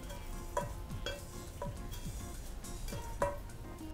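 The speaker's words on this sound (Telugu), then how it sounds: "వేయించుకున్న సేమియా వేస్తాం." Fried vermicelli sizzles in a pan for a sweet dish with cardamom, with several distinct stirring scrapes and clinks spaced through a steady close frying hiss, no voices.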